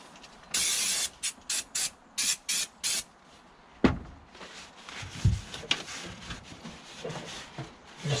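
Short bursts of cleaner sprayed inside a Peugeot Expert van during a sound-deadening conversion, a run of about six quick hisses in a row, followed by quieter handling clunks and rustles.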